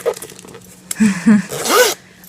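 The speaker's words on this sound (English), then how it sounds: "The zipper pull is so nice. It's the old-fashioned zipper pull." A zipper on a Louis Vuitton Toiletry 26 bag with an old-fashioned zipper pull is drawn open in a few short, close rasping runs. The final pull is the longest.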